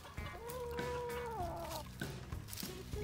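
A drawn-out, wavering cat-like call from a chicken, close and clear, followed by softer clucking sounds.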